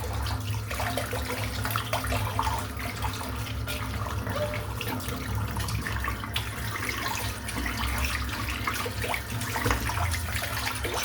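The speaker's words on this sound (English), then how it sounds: "I'm just going to empty the sink out because there's a fair bit of hair and crap in here" Water rushes out of a bathroom sink clogged with hair and debris, making a continuous, fairly loud gurgling flow that barely changes for the whole stretch.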